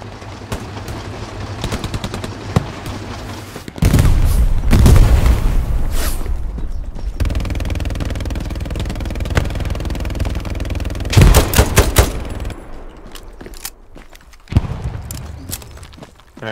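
MG42 machine gun fire rattles across a Hell Let Loose battlefield in long, loud bursts, joined by heavy booms and a few single shots, with rumbling battle noise between the volleys.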